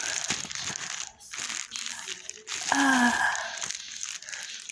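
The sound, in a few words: black plastic bag crinkling while unpacking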